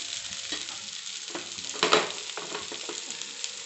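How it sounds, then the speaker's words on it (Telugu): Pieces of star gooseberry fry in hot oil in a pan with a steady broadband sizzle, punctuated by a few utensil scrapes and one louder stir-and-clatter burst midway; no voices. "సో అది హీట్ ఎక్కిన తర్వాత ఈ ఉసిరికాయ ముక్కల్ని ప్యాన్లోకి వేసుకుందాం"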